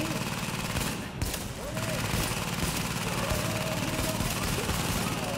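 A deployed turret firing in The Division, a fast, dense stream of shots that goes on without pause, with voices talking over the din.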